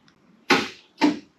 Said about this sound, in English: And that is the sound of the hatch.